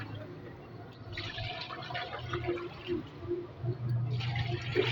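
A washing machine drawing in water to its highest level, with a steady rushing and splashing of inflow over a low hum, rising and falling in bursts.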